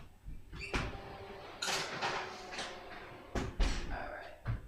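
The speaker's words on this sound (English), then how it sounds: "Now, into my oven they go for 30 minutes." A home oven door is opened and shut while muffins are put in to bake: faint clunks, rattles and a closing thump in a quiet kitchen.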